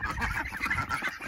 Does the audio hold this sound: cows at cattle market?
no